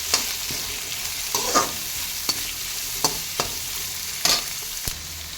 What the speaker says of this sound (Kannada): ಈರುಳ್ಳಿ ಬ್ರೌನ್ ಆಗೋವರೆಗೂ ಸ್ವಲ್ಪ ಇದಕ್ಕೆ ಉಪ್ಪು ಆ್ಯಡ್ ಮಾಡಿಕೊಂಡು ಫ್ರೈ ಮಾಡ್ತಾ ಇರಬೇಕು.